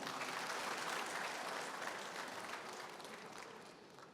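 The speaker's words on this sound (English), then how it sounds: "Let's give our Muhammad a big clap" Audience at a service-excellence conference applauds, a broad, even wash of many hands clapping that slowly tapers, fairly faint and distant.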